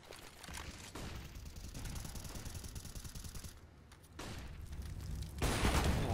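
Rapid gunfire bursts in Counter-Strike: Global Offensive during a professional IEM Dallas 2022 match, dense and continuous with loud shots, a brief lull, then heavier blasts near the end.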